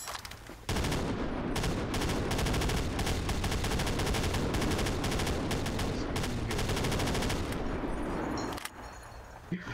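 Rapid bursts of gunfire in the video game Project Reality 2 crackle almost continuously for several seconds, loud and close, then cut off abruptly.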